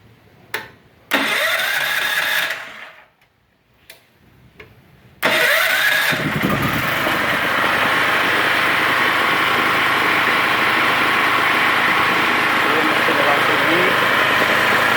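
A GGA 3900/4 SW generator powering an argon TIG aluminum welder starts with a few brief cranking bursts and a pause, then catches and settles into a steady, loud mid-pitched idle that runs on to the end.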